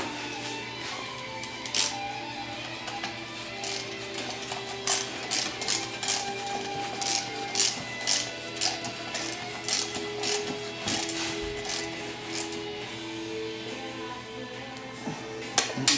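A ratchet clicks in short bursts while snugging the 3/8-inch 12-point center support bolt into a TH400 transmission, sharp metallic pawl clicks repeating nearby with brief pauses between strokes.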